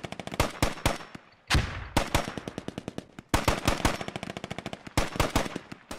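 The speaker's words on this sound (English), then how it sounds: "X-Bit exchanging fire." Rapid bursts of automatic gunfire in the military shooter Squad, including a G3 rifle, crackle in repeated sharp volleys, close and loud, with no talk over them.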